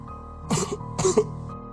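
A person coughs twice inside someone's house, two short, fairly close, rough coughs about half a second apart with a slight ring after each.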